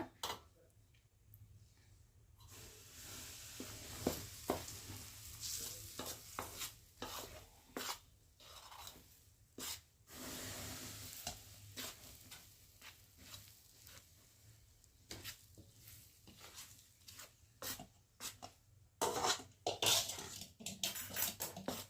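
Hot oil is mixed by hand into chakli dough: soft close rubbing, squishing and scraping strokes come and go irregularly, quiet overall with a few sharper taps.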